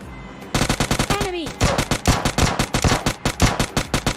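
Rapid bursts of automatic gunfire in the mobile battle-royale game PUBG Mobile Lite, a dense run of loud, closely spaced shots lasting several seconds with brief pauses between volleys.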